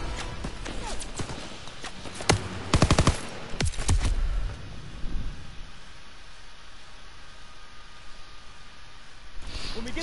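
Machine-gun fire in the Call of Duty WWII video game, from a gun in a hayloft: sharp rapid bursts crackle early on, then fade into a quieter stretch of muffled, rhythmic battle noise.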